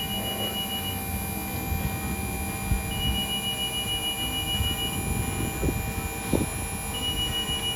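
A 50-foot man lift's outriggers retract with a high, steady electronic beep repeating in long on-off intervals over wind noise and a low mechanical hum, with occasional clunks.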